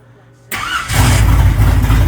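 Car engine with an Edelbrock carburetor, not yet warmed up, cranking briefly and catching, then settling into a loud, steady close-up rumble.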